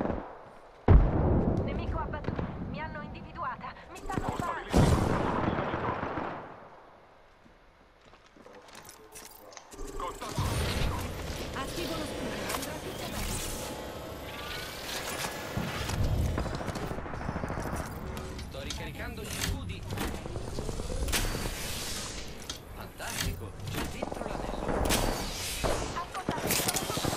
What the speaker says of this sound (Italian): Mi stanno sparando.